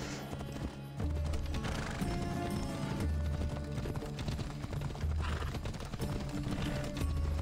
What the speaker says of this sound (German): Also wir reiten gerade auf dem Heiligtum zu